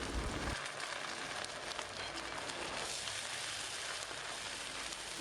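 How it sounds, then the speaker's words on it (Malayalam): Curry leaves tossed into hot oil with crushed garlic and ginger crackle and sizzle loudly after a brief start, a dense, even frying hiss that carries on without a break and with no talking. "ചതച്ച് വെച്ചിരിക്കുന്ന ഇഞ്ചിയും ഏകദേശം ഒരു 30 സെക്കൻഡ് നന്നായിട്ട് അതിനകത്തിട്ടൊന്ന് മൂപ്പിച്ചതിന് ശേഷം കറിവേപ്പില ചേർത്ത് കൊടുക്കാവുന്നതാണ്"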